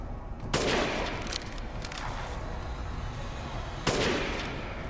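Gunfire in the video game Resident Evil Village: two sharp, loud shots about three seconds apart, each with a short decaying tail over a steady in-game ambient bed.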